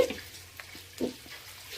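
Spices tempering in hot oil for a tamarind pickle give off a faint, steady sizzle and crackle, with a few slightly louder pops rising above the soft hiss.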